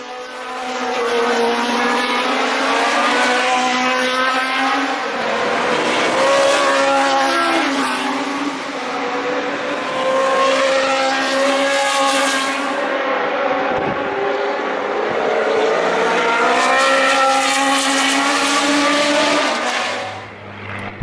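A historic six-wheel Tyrrell Formula One car at Brands Hatch, its engine screaming loudly as it passes, with rising and falling gear changes and revs across the whole stretch, and no speech.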